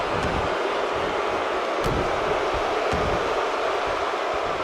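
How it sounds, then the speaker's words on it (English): Crowd booing at a WWE 2K19 tag team match: a broad, steady roar of arena noise holds constant throughout with no breaks, with faint thuds from the ring underneath. "And a lot of booing coming from the fans here."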